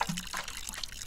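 In the video game Botany Manor, a plant is watered with a brief, soft trickle of liquid pouring and dribbling, faint and close, with no voices.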